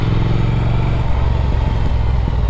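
Steady, close engine drone of a Triumph Speed Twin 1200 motorcycle while riding, a continuous low rumble with no speech.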